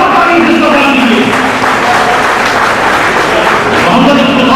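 At an All India Pasmanda Muslim Mahaz press conference, the room fills with loud, dense applause that holds steady and unbroken for several seconds.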